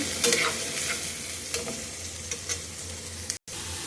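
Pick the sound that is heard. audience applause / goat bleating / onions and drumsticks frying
onions and drumsticks frying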